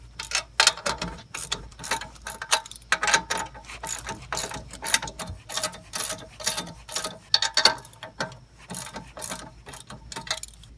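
A ratchet wrench tightens exhaust clamps on a Cherry Bomb Turbo muffler fitted to a V6 Camaro, giving close, sharp bursts of rapid clicking in an irregular rhythm with short pauses between strokes.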